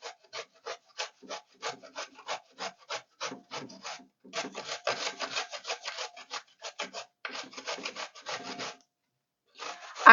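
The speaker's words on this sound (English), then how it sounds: "So I'm doing my grating." Zucchini rubbed by hand over a grater in quick, evenly spaced rasping strokes, then in denser bursts, with a short pause near the end; close and clear with no talk.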